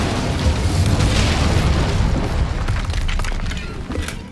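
An Incendio fire spell from the Hogwarts Legacy game erupts in a loud, dense booming blast with crackling roar, sustained for a few seconds before tapering off.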